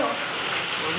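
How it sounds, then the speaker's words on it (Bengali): Heavy rain pours down steadily outdoors during a home cooking scene, a dense, continuous hiss close by and loud throughout with no pauses. "খুব জোরে জোরে বৃষ্টি চলে এসছে"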